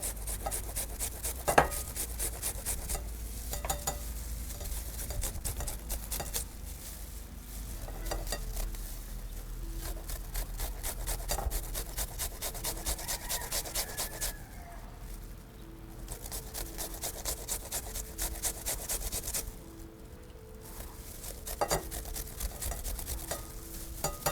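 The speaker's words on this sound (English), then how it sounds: "So with this, I'll go ahead and now grate my potato." Raw potatoes are rubbed over a hand grater in a kitchen, giving a continuous rasping scrape with rhythmic strokes, close and moderately loud, with a few short pauses and no talking.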